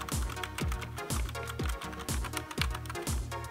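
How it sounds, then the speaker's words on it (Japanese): A lit-up keyboard plugged into a USB hub dock for a Nintendo Switch is typed on in a rapid, regular run of close, crisp key clicks with no talk. "キー入力できます。"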